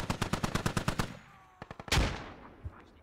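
Heavy machine gun fire in a Squad Ops tactical shooter: a rapid burst of about nine loud, evenly spaced shots, then a brief gap, a few more quick shots and a heavy blast that echoes away.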